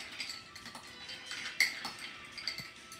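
Ice clinking and rattling against glass as a cherry chocolate rum old fashioned is stirred, a quick run of close, light chinks and taps with no talking.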